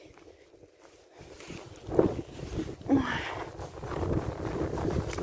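Wind gusts buffet the microphone in a village vegetable garden, rising into a steady rushing roar, with a brief exclamation from a person partway through.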